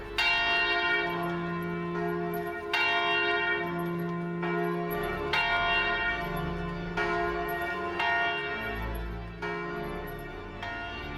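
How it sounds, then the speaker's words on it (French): Church bells of Saint-Rémy peal a fervent carillon from across town, overlapping strikes ringing in a steady rhythmic sequence with long resonant decay, moderately distant and without voices. "Les cloches de Saint-Rémy, de l'autre côté de la ville, battent le plus fervent des carillons"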